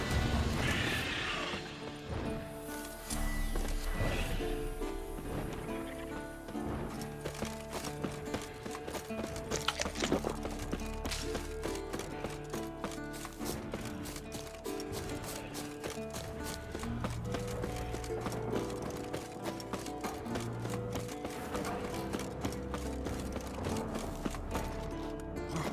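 A horse neighs and whinnies amid a dense video game soundscape with music-like tones, clip-clop hooves and crashing impacts; the warhorse Scorpion, a purebred Kedwen, sounds close and loud throughout.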